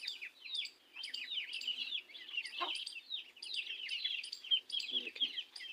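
A hen's eight chicks cheep in quick, high, repeated chirps, close and clustered in overlapping bursts, with a few low clucks from the hen underneath.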